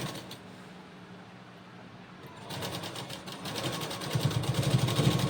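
Sewing machine stitching piping: quiet mechanical hum at first, then a rhythmic needle clatter starting midway and building louder toward the end.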